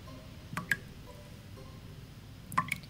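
A dripping bathroom faucet in a quiet house at night: a few soft, isolated drops fall in a small cluster, a pause, then another pair, faint and close in near silence.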